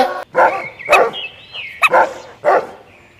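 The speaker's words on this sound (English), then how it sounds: "D for dog" A dog barks about four times in a loose rhythm, close and loud, with sharp yelping barks and short pauses between them.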